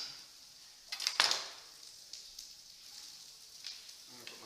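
Carrots hit a hot pan for a vegetable stir fry, giving a short loud burst of sizzling that then settles into a quieter crackle with a few small spikes from stirring.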